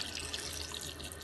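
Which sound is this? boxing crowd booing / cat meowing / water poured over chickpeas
water poured over chickpeas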